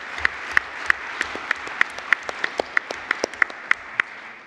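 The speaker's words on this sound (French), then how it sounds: "Je crois qu'on peut les applaudir, chaleureusement." Warm applause from an assembly honoring colleagues named to the Légion d'honneur, a steady wash of clapping with sharp individual claps standing out at a regular rhythm throughout.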